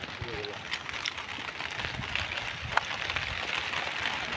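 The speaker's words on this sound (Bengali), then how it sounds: "প্রচণ্ড জোরে বৃষ্টি শুরু হয়ে গেছে।" Heavy rain falls at a village river during hook fishing, making a dense, continuous broadband hiss with scattered crackling drops close by and a sharp tap near the middle.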